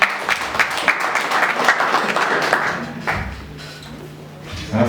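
A crowd at a Tanzanian clan gathering breaks into applause, a steady patter of many hands clapping for several seconds that thins toward the end, with faint voices underneath.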